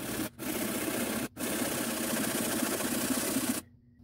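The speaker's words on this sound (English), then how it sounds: "I'm going to take some sandpaper off the bottom, just scrape out the insides" Sandpaper scraping steadily across the bottom of an acorn, a close, continuous gritty rasp broken by two brief pauses, then cutting off into near silence at the end.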